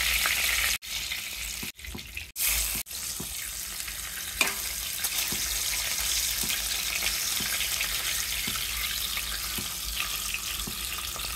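Fish frying in oil, a dense steady sizzle filling the clip after a few brief cut-outs at the start, with faint occasional taps beneath.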